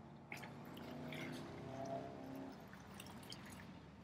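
Boiled, hopped wort for an American porter or wheat beer pours into a fermenter as a faint, steady liquid stream with soft drips and sloshing, heard quietly with no talking.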